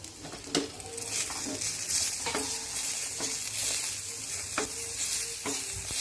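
A spice mix with garlic cloves and a piece of ginger sizzles and crackles in a hot pan, with a spoon scraping and stirring in repeated strokes, steady and close, no voices.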